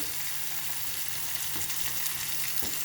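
Sliced onions and green chillies frying in a pan for a masala curry, a steady, fairly quiet sizzle with soft crackles and a few small pops, heard alone without talk.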